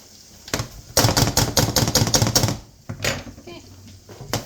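A microplane rasping garlic cloves, a fast string of dry scraping strokes in quick rhythmic clusters, close and fairly loud, with a short pause before a few more strokes.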